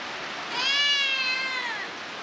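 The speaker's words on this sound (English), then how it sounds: "Cats are also common in Comoros." A single cat in Comoros gives one clear, drawn-out meow lasting over a second, close and fairly loud against a soft background hiss.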